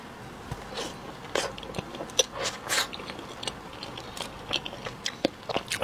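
Crisp bites and crunchy chewing of a mini mammoth bread snack with a whole piece of chocolate inside, close and quiet, with irregular crunches and soft mouth sounds.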